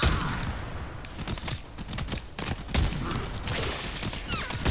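Twin Rogga shotgun fire in the Warframe video game comes as a rapid run of loud, punchy shots over dense game sound and effects, with no speech.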